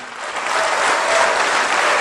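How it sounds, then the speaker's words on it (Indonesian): An audience at a K-Link Indonesia marketing plan seminar bursts into steady, dense applause that holds loud and continuous for the whole stretch, with no talk over it. "Tepuk tangan untuk upline Anda."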